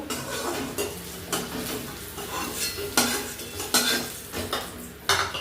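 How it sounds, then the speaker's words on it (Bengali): Potatoes fry in hot oil in a pan under a soft continuous sizzle, punctuated by repeated clattering scrapes of a spatula or spoon stirring against the metal pan. "আলুগুলো ভাজা হয়ে তুলে নেব।"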